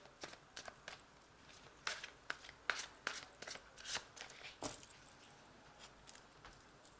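Fairy Tarot cards shuffled and drawn by hand, a run of quick crisp riffling snaps and papery flicks that cluster densely in the middle, then thin out into sparse taps, close and quiet with no speech.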